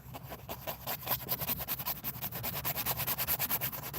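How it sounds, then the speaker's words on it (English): A paintbrush rubs leftover pigment into a painting during a live painting session, a close, steady rhythmic scrubbing with repeated brisk strokes, louder toward the end, with no talk. "I'm just rubbing that pigment in."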